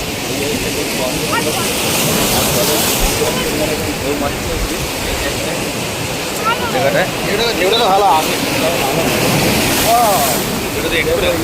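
A river launch pushes through the water with a steady rushing wash and wind buffeting close by, while a voice and other chatter carry underneath.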